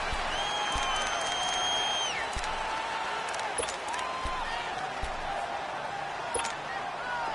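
Stadium crowd in an American football video game, a broad continuous roar of cheering and applause with some sharp pops and whistles, heard without commentary.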